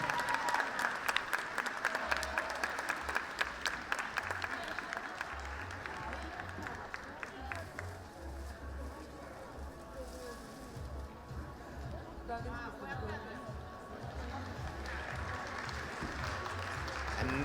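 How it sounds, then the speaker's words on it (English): A large indoor audience at the European Dog Show 2015 applauds steadily, with dense clapping that fades somewhat midway and then swells again, and a faint crowd murmur in the background. "Please welcome with a big round of applause, Kari Järvinen from Finland."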